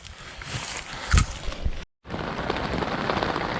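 Heavy rain pours down hard at an Army Corps of Engineers campground, a dense, loud hiss of drops drumming on surfaces, with a brief drop to silence partway through before the downpour resumes.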